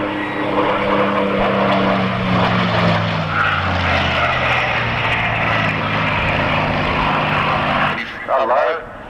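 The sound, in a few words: propeller fighter plane going around at an airshow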